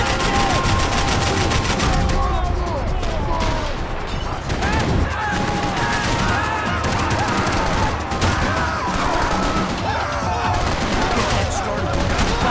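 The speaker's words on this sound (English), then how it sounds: "Bullets whizzing past my head." Sustained gunfire from Max Payne 3, with bursts of automatic weapons and rounds whizzing past during a firefight in a swamp, loud and continuous under game music and effects.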